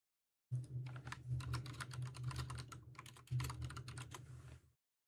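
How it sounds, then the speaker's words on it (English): Rapid clicking of keys on a computer keyboard in two close bursts of typing, crisp and quiet against a silent background. "you can literally hear Scully typing on his keyboard"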